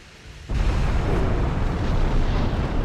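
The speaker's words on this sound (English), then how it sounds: "You hear the thunder." A sudden deep boom of thunder breaks out in the naval warship game Ultimate Admiral: Dreadnoughts, then rolls on as a loud, sustained rumble after a quieter opening.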